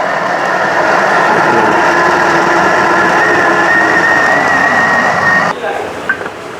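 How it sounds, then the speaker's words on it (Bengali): A blender at its top speed setting whirs steadily and loudly as it purées pesto alla genovese, a constant high motor drone that cuts off near the end, followed by a few small clunks. "আমার এখানে এটা ব্লেন্ড হবে।"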